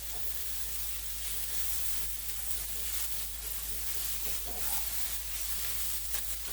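Vegetables stir frying in a pan sizzle and hiss steadily and close up, with occasional stirring scrapes throughout.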